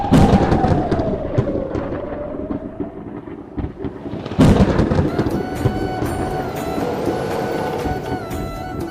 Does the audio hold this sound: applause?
no